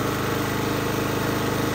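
An old Victa lawn mower engine with diesel in its sump idles unloaded, a steady close chugging drone that runs evenly through the whole stretch with no voices.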